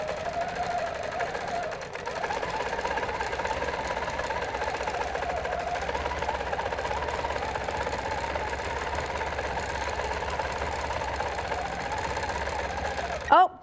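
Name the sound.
sewing machine quilting with 360 Wonderfoot hopping foot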